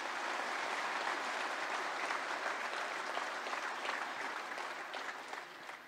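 Sustained applause from a large ceremony audience honouring the President of India at the National Panchayat Awards event, a dense, steady roar of clapping that holds evenly throughout and eases slightly near the end.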